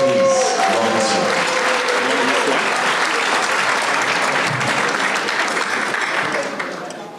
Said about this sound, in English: How about a nice round of applause, please?